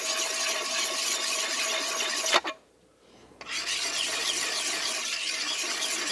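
A bushcraft axe edge is worked in circular strokes against a sharpening stone, giving a continuous close rasping scrape that stops briefly and then resumes.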